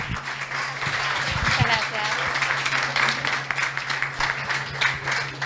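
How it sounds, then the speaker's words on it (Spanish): An audience at a vegan festival talk claps to welcome a speaker onto the stage, a sustained crowd applause of many hands that swells and continues for several seconds over a low steady hum. "La recibimos con un fuerte aplauso."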